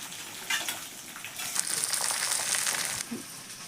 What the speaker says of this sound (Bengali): আগে একটু ভাজা ভাজা করে নেব, তারপরে মশলাগুলো দিয়ে দেবো।